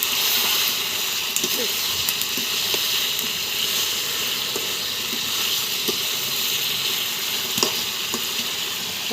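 Fish curry masala with rohu sizzles steadily in a pan as it is sautéed, a continuous loud frying hiss with occasional sharper crackles and stirring scrapes throughout.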